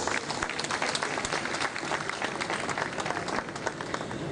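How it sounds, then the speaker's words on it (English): An audience at a law week event in a dome hall gives the discussants a round of applause, dense steady clapping spread across the room at moderate level, fairly distant. "let us give them a round of applause"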